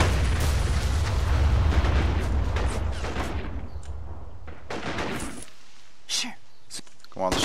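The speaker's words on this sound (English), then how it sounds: "the shell fell short" An artillery shell explodes in the Strateejik Battles war game with a loud, rumbling boom and scattered gunfire that fade over several seconds into quieter, sparse pops.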